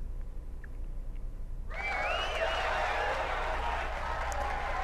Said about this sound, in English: the bustle of voices reaches my ears. Is that a cheer?